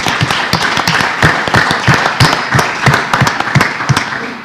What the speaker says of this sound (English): Nice round of applause for Kasim.